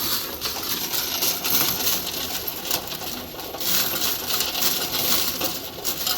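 Coins being counted as change drop and clatter steadily and close up in a dense, continuous jingle, with no voices.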